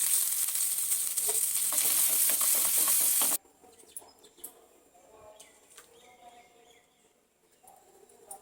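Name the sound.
tempering spices sizzling in hot oil for chutney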